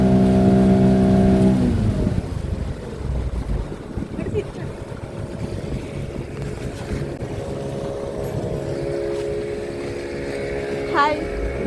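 Engine of an eight-seater motor boat running with a steady loud drone, with wind and water wash over it and a brief tonal hum at the very start.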